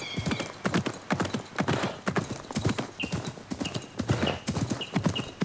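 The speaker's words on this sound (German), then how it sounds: "Au! Pferd!" A horse gallops in Assassin's Creed Mirage, with steady rhythmic hoofbeats on the ground running the whole time and a brief whinny. Someone speaks a few words partway through.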